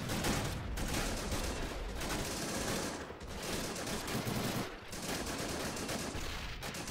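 M1 Garand rifles and a bunker machine gun fire continuously in a Normandy Omaha Beach battle game, a dense, loud wall of overlapping gunshots and bursts with brief dips, no voices.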